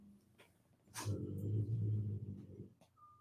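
A truck rolls by outside on a cold day, a low engine rumble that swells for about two seconds and then fades, heard from indoors without speech.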